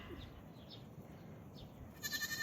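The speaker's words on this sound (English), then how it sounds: "Billy goats talking." Billy goats bleat on a farm where a baby goat, a mother goat and a turkey are nearby, giving a few short wavering calls over soft outdoor background noise, with a brighter, louder call near the end.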